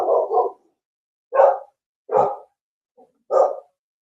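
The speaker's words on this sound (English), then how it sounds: "there's a dog barking" A dog barks four times, sharp and fairly close, with gaps of silence between the barks.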